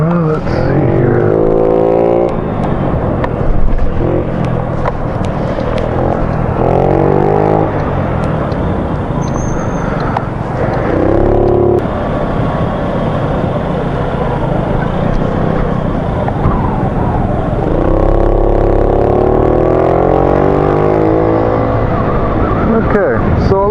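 A Honda Ruckus 49cc scooter engine runs steadily and loudly throughout while riding, with a voice talking over it at times.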